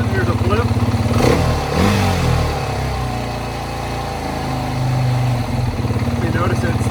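A vehicle engine with a possible throttle issue revs, holds higher RPM for a moment, then drops back toward idle, loud and close with a steady running drone throughout.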